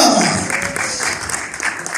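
Dense crowd applause fills the whole moment at an even, moderate level, with a voice faintly mixed in beneath the clapping.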